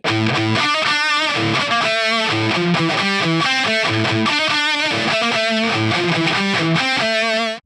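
An Epiphone Kirk Hammett 1979 Flying V electric guitar plays heavily distorted, chugging riffs, loud and continuous with palm-muted rhythms and chord hits, with no voice.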